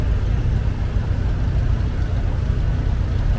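A Farmall 240 tractor idles at an antique tractor show, its low, steady engine chug close and continuous with no talk over it.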